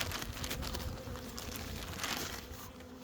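Honeybees buzzing around an apiary hive in spring after wintering, while the colonies are treated against varroa mites; a dense, steady, close swarm hum fills the whole stretch without pause.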